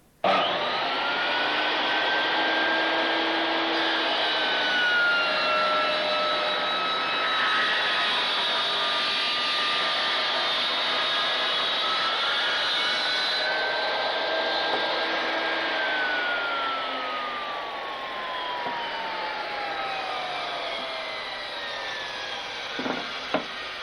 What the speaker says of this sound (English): make sure it's locked and the saw blade can't hit it, and then you can finish the cut.